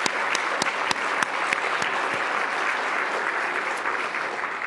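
Sustained applause for ambassadors at an award ceremony, a room full of clapping hands, with a few sharp individual claps standing out near the front, steady throughout.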